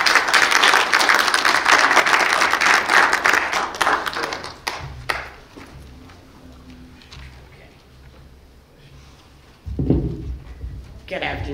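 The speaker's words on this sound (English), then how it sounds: "let's clap our hands for our sister." Mourners at a memorial service clap their hands together, loud dense applause for about five seconds that thins into scattered taps, followed by quieter room noise and a brief swell of sound near the end.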